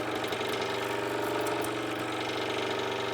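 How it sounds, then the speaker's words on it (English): A DEWALT DW788 20-inch variable-speed scroll saw with a 1.3 amp motor runs with its blower on, giving a steady, close, loud mechanical hum and rapid chatter with no talking. "the blower is dependent on the speed"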